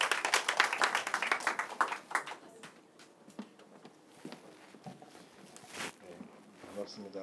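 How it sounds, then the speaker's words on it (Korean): Audience applause welcoming a pastor to speak at a prayer meeting during a camp in Bali, Indonesia, a loud burst of clapping at the start that fades within about two seconds into room noise and scattered sounds. "우리 박수로 환영하겠습니다."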